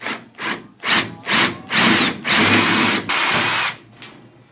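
A power drill boring 7/16 inch holes through the sheet-metal baggage door of a Piper Super Cub Widebody, loud close bursts of whining drilling, several short runs then longer sustained ones with brief pauses between.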